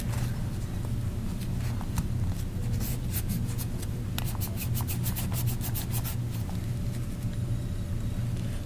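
An old rag wipes grime from the slide and extractor of a Beretta 92FS pistol, a close, continuous cloth-on-metal scrubbing with scattered small clicks and taps throughout.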